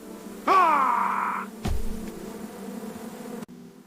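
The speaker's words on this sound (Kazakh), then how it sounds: "Мұны аралар тыныштық бермейді екен." Cartoon bees attacking a bear at a honey hive make a loud, steady droning buzz that rises in pitch, then a thump and a lower continuing hum, all close and alone.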